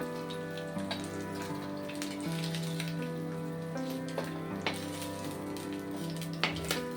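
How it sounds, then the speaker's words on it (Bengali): Small mourola fish frying in hot oil in a home kitchen, a steady close sizzle with crackling pops and occasional spatters throughout, no talking. "বাদবাকি সব মাছগুলো ভাজা হয়ে গেল।"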